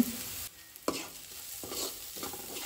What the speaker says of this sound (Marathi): हे मातशें न्ही हांगासर मिक्स करून घेवया।